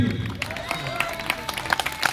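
Audience applause at a seminar in Sonipat, Haryana: a steady patter of many hands clapping together in a hall, with sharper individual claps standing out over a continuous crowded wash.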